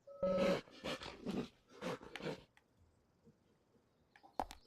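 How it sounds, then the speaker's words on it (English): In the video game Deadly Premonition, a dog lets out a short series of rough, close barks, about five in quick succession, then goes quiet apart from a brief sharp noise near the end. "Sounds like a dog."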